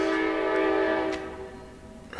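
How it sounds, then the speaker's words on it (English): Train horn sounding as a train passes, a loud sustained chord of steady blasts that fades slightly toward the end, with no talking over it. "A train is going by."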